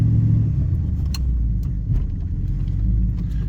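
A 1990 Dodge Ramcharger engine runs steadily close by, a low continuous rumble with faint mechanical ticks on top, heard alone without any talking.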